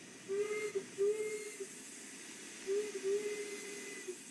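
A steam locomotive whistle in Train Sim World 2 sounds in two long, clear blasts over a soft background hiss of steam.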